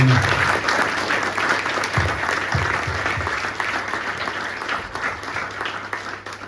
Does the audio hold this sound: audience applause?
yes